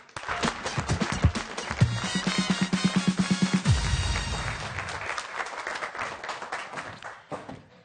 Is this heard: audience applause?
yes